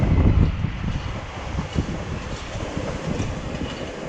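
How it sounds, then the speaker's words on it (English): A train rumbling past close by with dense, broad noise and a rhythmic clatter, heard with wind buffeting the microphone. "Train."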